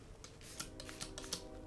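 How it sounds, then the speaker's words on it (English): A spray bottle of cleaner is pumped a couple of times onto a cloth while cleaning a Rickenbacker 330 guitar in Fireglo finish, giving short, close, hissing bursts in a quiet room. "I'm just going to give it a couple pumps"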